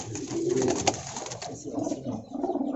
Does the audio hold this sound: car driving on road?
no